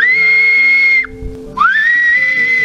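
A person gives a loud, piercing whistle in two long sustained blasts separated by a brief break, the second sliding up in pitch, close and alone over faint background hum.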